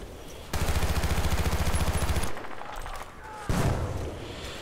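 Rapid automatic gunfire in the video game Battlefield Bad Company 2, a loud sustained burst of shots followed by a quieter pause and another heavy blast.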